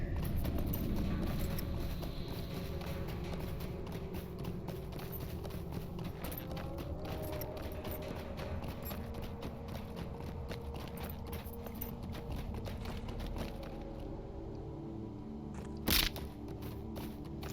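Steady clip-clop of horse hooves in Lord of the Rings Online at a quick, rhythmic pace, close and continuous, with a faint clank or jingle near the end.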